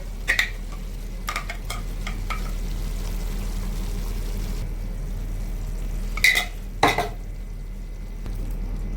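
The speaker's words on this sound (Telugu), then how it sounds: "అల్లము తెల్లగడ్డ పచ్చిమిరకాయ వేసి మిక్సీలో అయితే కొట్టేశాడు బాగున్నగా ఇప్పుడు వేస్తున్నాడు" Ginger, garlic and green chili paste fries in a pan, a low continuous sizzle broken by several sharp metallic clinks and scrapes of a utensil, close and without speech.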